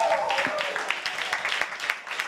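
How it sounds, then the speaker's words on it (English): An indoor audience at a StarCraft 2 tournament finals applauds the finalists, a steady patter of clapping with voices mixed in. "A huge applaud for the finalists."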